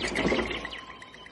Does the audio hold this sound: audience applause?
no